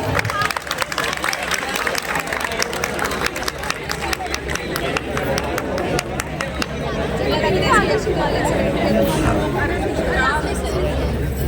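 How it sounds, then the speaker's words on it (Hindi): A crowd claps at a Class XII school farewell event, many hands applauding loudly at first and then thinning out into chatter as a voice speaks over the hall. "अरे तालियां रुक क्यों जा रही हैं?"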